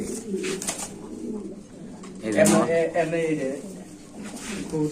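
A pair of Sirazi pigeons coo in soft, low, throaty bursts close by, mixed in with people talking over them.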